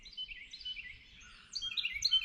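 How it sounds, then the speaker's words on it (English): Birds sing on a cool spring morning at a Tennessee homestead, giving quick, bright chirps and trills at moderate distance that grow busier toward the end, with no voices. "The birds are singing."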